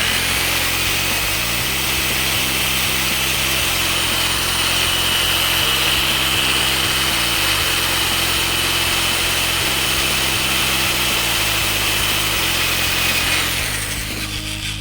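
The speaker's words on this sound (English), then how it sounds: "You are drilling into metal." A power drill bores into metal, grinding steadily for most of the clip, loud and close, with a harsh whine and rhythmic low pulsing throughout.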